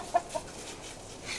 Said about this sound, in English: Herding the chickens.